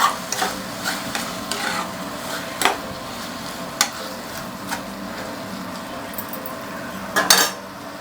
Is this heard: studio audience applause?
no